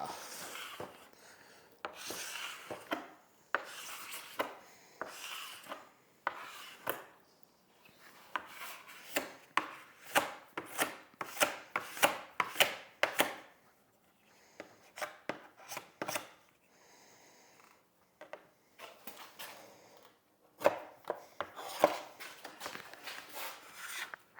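Wax being scraped off a ski with a scraper, a series of close, sharp rasping strokes in uneven bursts with short pauses between them, no talking.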